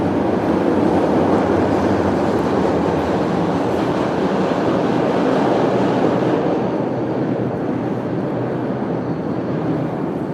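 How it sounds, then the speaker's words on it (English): Steady, loud underground rumble of a subway train passing below a Chicago street on Michigan Avenue, a dense low roar that continues throughout and eases slightly near the end, with no voices. "That was the subway underneath."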